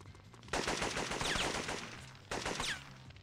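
Rapid gunfire in the PlayStation game Syphon Filter comes in two loud, dense bursts of shots close together, with a brief lull between them.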